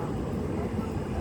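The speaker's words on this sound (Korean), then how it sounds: "엄마 저기 한 비행기 보여? 하늘에 내려오나 봐." An airliner descends to land at Incheon Airport, a steady broadband jet rumble heard outdoors at a distance, with voices mixed in.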